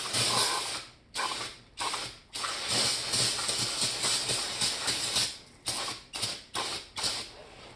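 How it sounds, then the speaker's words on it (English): Brake cleaner sprayed from an aerosol can in hard, close hissing bursts, about a dozen of them, some long and some short, separated by brief pauses. "you keep spraying it down with brake clean"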